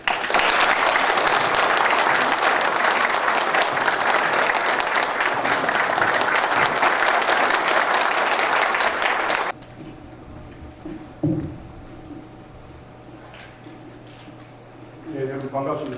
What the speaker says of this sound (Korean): 박수를 맞이해 주시죠